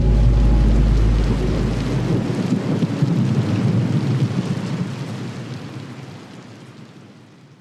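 A thunderstorm with rain: a deep, heavy rumble of thunder rolls loudly at the start and slowly fades, while a steady hiss of rain continues throughout and tapers off toward the end.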